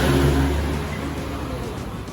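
A family car accelerates on the road, its mid-pitched engine loud and close at first, then the revving eases into a steady whirring drone.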